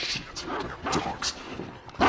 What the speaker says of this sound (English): Shut up, damn dog!